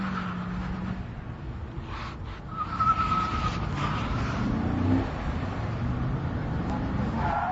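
A Holden VE ute drives figure-of-8 demonstration maneuvers testing its ESP and ABS, with steady engine and tyre noise from a moderate distance that swells as the car turns and brakes.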